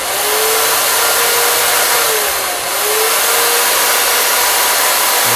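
A Kress KU420 1400W cutting power tool runs steadily at high speed, a loud, close, continuous whine with a slight dip midway, and no one speaks over it.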